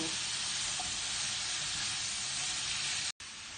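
Mushrooms and bacon lardons fry in a pan with a loud, steady sizzle, dense and continuous hiss throughout, broken only by one brief cut near the end.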